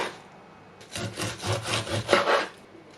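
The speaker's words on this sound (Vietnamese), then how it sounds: "chị em mình sẽ lấy con dao mà răng cưa á, mình gọt nó" A serrated knife peels a fresh pineapple in a home kitchen, giving about six quick rasping strokes in a row that are close and fairly quiet, followed by a short pause.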